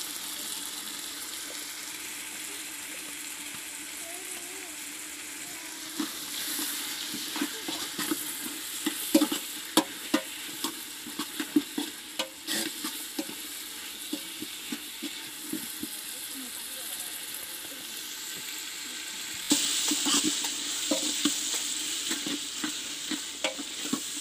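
Food sizzles quietly in a pan while a utensil scrapes and stirs in irregular bursts as a village-style fish curry is sautéed, with a brief gush of tamarind water late on.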